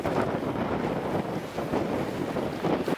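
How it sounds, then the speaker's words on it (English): Strong cold wind in the Brecon Beacons, Wales, buffeting the microphone, a steady loud rushing roar with gusty swells and no voices. "So it is very, very windy, and the wind is very cold"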